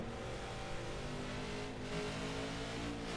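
Race car engines roaring and revving in the NASCAR 15 video game at Loudon, with a dense, continuous drone of several cars at moderate loudness.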